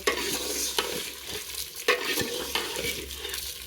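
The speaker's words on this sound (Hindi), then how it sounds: "अब जो है ना इसको चम्मच चलाते रहना है" A spoon stirs food through hot ghee in a pan, scraping in irregular strokes over a continuous close sizzle, with sharper clinks at a few points and no talking.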